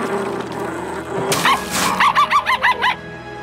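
A cartoon puppy from Bubble Guppies gives a quick string of about six high, bouncy yapping barks, close and loud. A short whimpering cry comes just before them.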